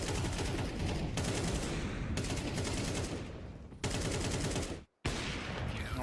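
Rapid bursts of gunfire crackle steadily through a Counter-Strike esports match between Spirit and BIG, dense and loud with only a brief silent gap near the end.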